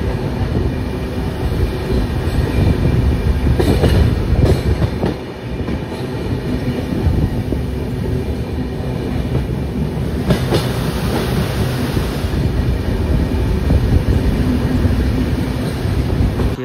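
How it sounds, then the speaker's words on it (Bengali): The 13147 Uttarbanga Express from Sealdah rumbles and clatters steadily as it pulls onto platform 1 at Malda Town station, with rhythmic wheel noise and occasional louder jolts heard from on board. "এখন আমাদের ট্রেন প্রবেশ করেছে মালদা টাউন স্টেশনে 1 নম্বর প্ল্যাটফর্মে"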